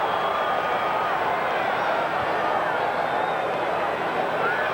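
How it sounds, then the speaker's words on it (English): Crowd noise fills a football stadium at a 1980 Cleveland Browns at Pittsburgh Steelers regular-season game, a dense steady roar on a goal-line play. It holds loud and continuous throughout. "The crowd building in its crescendo, anticipating the touchdown signal"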